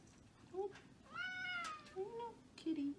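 Cat meowing during a nail trim, a few separate quiet meows, one drawn out and rising, with soft human voice sounds around them.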